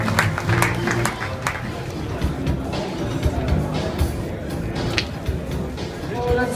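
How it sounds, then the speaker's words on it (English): An audience at a GeoWall competition applauds after a wall fails its test, sustained clapping mixed with crowd murmur and voices talking over it. "Everyone give a round of applause."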